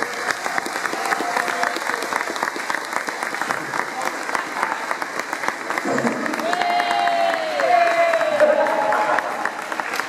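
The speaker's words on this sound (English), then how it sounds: "if we could just have a short round of applause for the trainers for their efforts" A crowd at a police open day gives a sustained round of applause for self-defence trainers, dense clapping throughout that swells slightly near the end, with a voice briefly heard over it.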